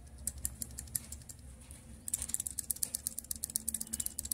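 A Honda SP 125 engine idling with a faulty timing chain tensioner, giving a fast, dry metallic ticking and clattering that grows louder and more insistent partway through, heard up close with no talking.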